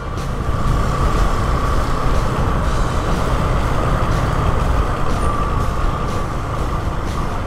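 Road traffic rumbles steadily beside the MRT 7 depot in Manila, a loud continuous wash of engine and tire noise with heavy vehicles passing close by.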